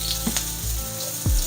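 Shrimp and green onions sauté for shrimp fried rice in a hot pan, a close, steady sizzle broken by a few sharp stirring scrapes.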